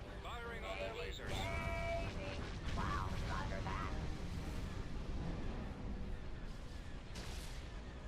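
Laser cannons fire in a Star Wars strategy video game set in the Clone Wars, with repeated sharp blasts over a dense, loud, continuous battle din and rumbling explosions.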